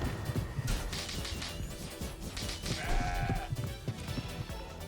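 A goat enemy in the video game CrossCode bleats loudly amid a busy mix of combat hits, thumps and game effects.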